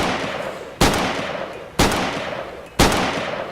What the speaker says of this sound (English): that AK is so loud when we're zoomed up on it